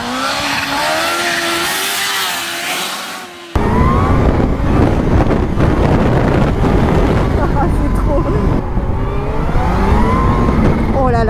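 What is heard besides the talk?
Kawasaki motorcycle accelerating hard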